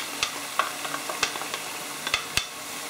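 Mushrooms and paprika tossed into a pan of softened onion, a soft sizzle punctuated by several sharp clicks and knocks of utensils against the pan, close and alone.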